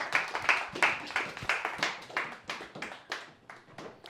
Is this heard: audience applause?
yes